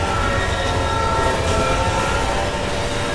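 In a video game, a train roars past loud and close, a dense continuous rumble with the tonal blare of its horn layered through, and no voices.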